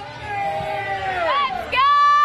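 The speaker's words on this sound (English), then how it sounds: "Let's see if we can get a chant going out here." A bar crowd chants together during a West Virginia football night, loud, massed voices in a sustained rising shout, with a sharp collective swell near the end.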